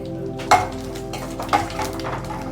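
Cumin and mustard seeds splutter in hot oil in a kadai, with two sharp pops standing out over a steady background sizzle and faint utensil clinks, close and fairly loud, no voices.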